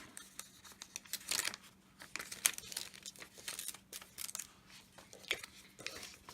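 Paper for traveler's notebook inserts is cut with scissors. Close crisp snips and crinkly rustles repeat in an irregular run, moderately loud, with nobody talking.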